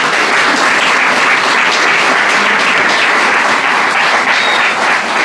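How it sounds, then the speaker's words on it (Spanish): A congregation at a church service gives a loud, full round of applause to God, many hands clapping densely and without pause, no speech over it. "Dale un aplauso al Señor."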